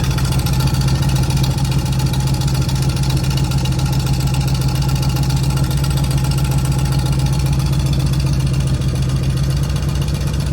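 A BMW E36 engine idles with a big exhaust leak, giving a loud, steady, rapid puffing chug that stays close and constant without any change in pace.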